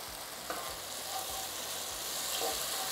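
Tomatoes fry steadily in hot oil in a pan, a dense continuous sizzle with occasional stirring scrapes, close and loud throughout with no talk.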